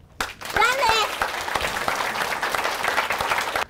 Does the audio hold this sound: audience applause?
yes